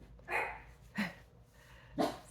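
Several dogs bark indoors in three separate, spaced-out bursts, moderately loud and close, between quiet gaps.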